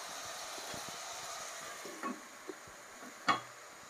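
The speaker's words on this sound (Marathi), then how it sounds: "ते बटाटे हलवून घ्या आणि आता ते शिजू दे थोडे" Diced potatoes sizzle quietly in a covered pan for a fasting recipe, a soft, continuous frying hiss with a few faint clinks and taps of stirring standing out near the end.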